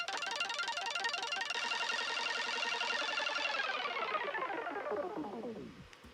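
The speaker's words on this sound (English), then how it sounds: "I slowed down the arpeggiator so it sounds like this." A slowed-down arpeggiated synth in a Logic Pro X electronic pop track before the drop, a rapid continuous stream of bright notes that sweeps and fades out near the end.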